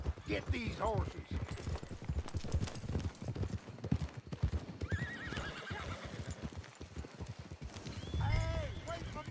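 Horses in Red Dead Redemption 2 whinny loudly at the start and again near the end, with hooves clip-clopping throughout and someone talking over much of it.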